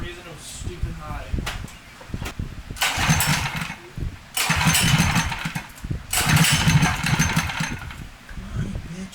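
A Predator 212 engine fitted with a muffler on an MX550 dirt bike makes repeated bursts of rough, pulsing running, each lasting a second or two and separated by pauses, with talk in between.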